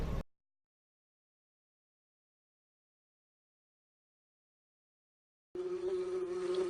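Bees buzzing in a cartoon scene, a steady insect drone that cuts in after a long silence and continues near and moderately loud to the end.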